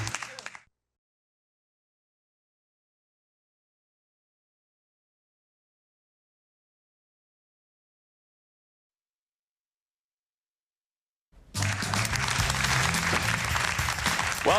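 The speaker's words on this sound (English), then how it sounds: "He is good for pressing that applause button." Applause effect triggered from a studio soundboard button, a brief burst cut off almost at once, then a long silence before a loud, sustained crowd-clapping effect runs to the end.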